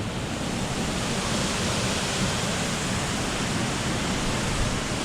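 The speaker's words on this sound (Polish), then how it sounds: "dzisiaj znów pada jak co dzień" Steady rain pours down in a Philippine jungle, a dense, even wash of hiss that holds unbroken at a fairly loud level throughout, with no voices.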